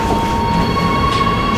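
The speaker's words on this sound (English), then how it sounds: "We're on the train to Oslo, and we have arrived at Oslo city centrum." Steady rumble of a passenger train heading to Oslo, heard from inside the carriage, with a constant low drone and faint high tonal whine running evenly throughout, no voices.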